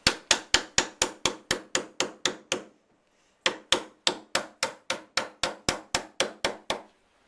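Sharp metallic hammer blows driving roofing nails into zinc sheet metal, in two steady runs of about a dozen strikes each, separated by a short pause, close and crisp.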